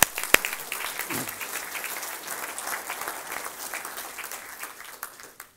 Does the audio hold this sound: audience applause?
yes